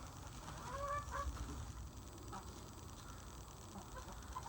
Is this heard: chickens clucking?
yes